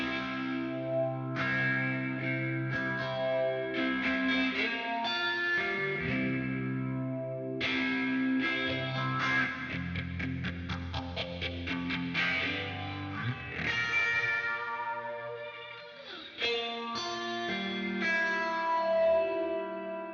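Electric guitar playing a slow, sustained riff with a swirling, sweeping phaser effect and lush echo, steady and continuous throughout.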